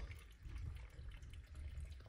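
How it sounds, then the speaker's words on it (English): Water poured into a blender jar, about a cup, to make fresh pineapple orange juice, a soft steady splashing trickle heard close and fairly quiet, with no talking. "let's put some water"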